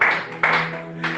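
A church congregation clapping and applauding during a sermon, with three short bursts of hand claps sounding close and lively in a reverberant room.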